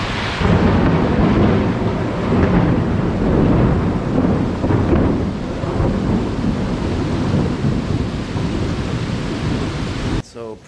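A thunderstorm with heavy, sustained thunder rumbling after a lightning bolt, mixed with rain and wind buffeting the microphone, loud and continuous throughout.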